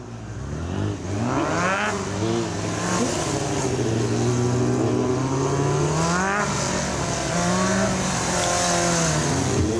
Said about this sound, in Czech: Každopádně Kuba má neskutečnou rychlost, motor tam drží